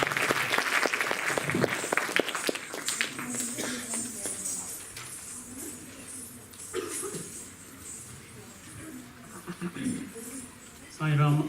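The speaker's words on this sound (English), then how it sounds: "So let's, with a round of applause, welcome him" An audience at a 2017 Swami's birthday gathering breaks into warm applause to welcome a speaker. The clapping is loud at first, then thins and fades while a voice talks over it, and it briefly swells again near the end.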